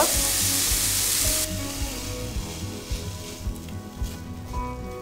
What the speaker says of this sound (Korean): 고기는 서로 뭉치지 않게 이렇게 풀어주면서 볶으셔야 돼요.